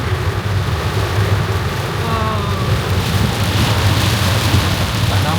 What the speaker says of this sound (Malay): Hujan lebat.